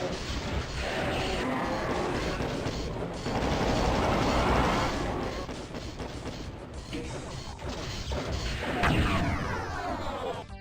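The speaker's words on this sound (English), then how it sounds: "That did sound sexy, having those two explosions in sync like that." Explosions and gunfire from the video game Doom, a dense, loud stretch of crashing blasts and mechanical clatter that keeps going throughout without a break.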